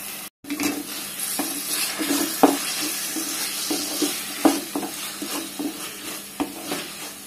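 Green chillies fry in a pan under a steady sizzle, punctuated by repeated sharp scrapes and knocks of a spatula against the metal.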